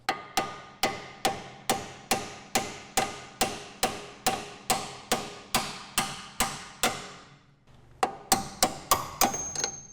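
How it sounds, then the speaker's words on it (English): A heavy lump hammer strikes axle bolts on a Dodge Grand Caravan again and again in a steady rhythm, sharp ringing blows, a short pause, then a quicker run of hits. "we're going to give them a good tap with our lump hammer"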